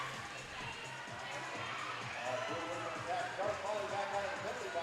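A roller derby crowd in an arena yelling a drawn-out "boot" that sounds like booing, a broad roar of many voices under an announcer's steady commentary.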